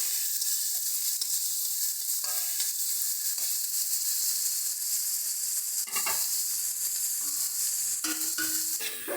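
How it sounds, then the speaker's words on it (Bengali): Potato pieces fry in hot oil until lightly reddened, a dense continuous sizzle with occasional spatula scrapes and taps, close and alone. "আলুগুলোকেও সেম একই রকমভাবে হালকা লাল লাল করে আমরা ভেজে নেব"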